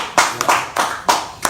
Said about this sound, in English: Everybody's clapping for you here.